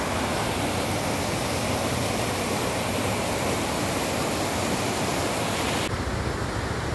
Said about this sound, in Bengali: জল হচ্ছে, ঝর্ণাটা পড়ছে না, ঝর্ণার জলটা আসছে, রাস্তা পুরো ভিজে।